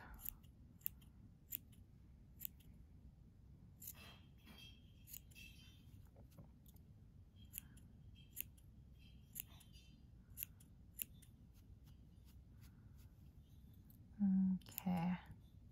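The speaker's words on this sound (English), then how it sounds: "I'll probably snip some here" Scissors snipping the yarn pom-pom on a small crocheted Santa hat, many crisp quiet cuts spaced irregularly and close up, with a brief louder rustle near the end.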